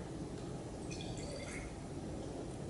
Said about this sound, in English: Let's go ahead and pour it in.